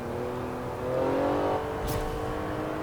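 A car in a Forza drift event, fitted with electronic stability control, revs up with a rising engine whine that swells briefly, then settles, with a short burst of hiss near the end.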